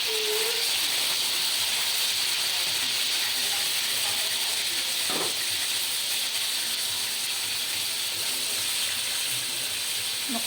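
Pork chops sizzle in a hot pan, a steady broad hiss of frying fat running unbroken throughout, with faint pops and crackles scattered across it and no talking.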